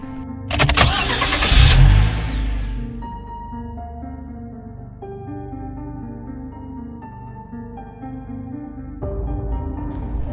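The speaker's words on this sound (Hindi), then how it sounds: "फिर सौंदर्य पोटी बॉय गाड़ी स्टार्ट करता है" A car engine cranks and catches with a loud burst, then settles into a steady running hum as the car moves off, rising again near the end; no talk over it.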